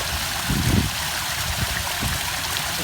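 Water tumbles over several roughened, aged stone drop-offs in a garden water feature, a continuous close rushing splash with a few deeper gurgling swells.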